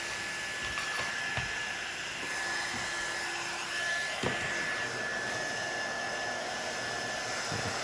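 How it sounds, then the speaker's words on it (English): A heat gun melts and spreads wax on a Filson jacket, a steady close blowing whir held for the whole stretch with a few faint clicks and knocks over it. "used the heat gun to spread it out a bit"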